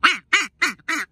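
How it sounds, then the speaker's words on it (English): A blue-winged teal duck call is blown in four short, evenly spaced raspy quacks, loud and close with silence between each note. "I just had to tell the teals I was leaving because I was going to do something else with Uncle Si's duck call."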